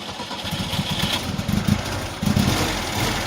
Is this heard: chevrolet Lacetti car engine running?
yes